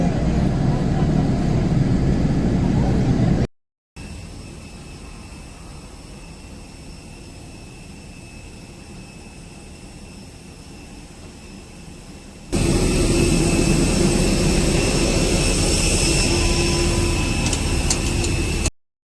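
IndiGo passenger jet engines roar at an airport, a loud, steady broadband rumble with a whining tone, cut into segments with a quieter stretch between two louder ones.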